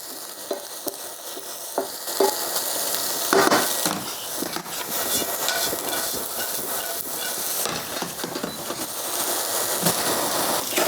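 Potatoes and onions sizzle and crackle in a pan for German Bratkartoffeln, a steady close frying hiss with scattered pops and scraping stirs throughout.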